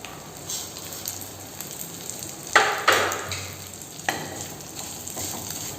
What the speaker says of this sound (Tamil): இந்த நெய்யிலே பார்த்திங்கன்னா இந்த சேமியா வறுத்துக்கலாம்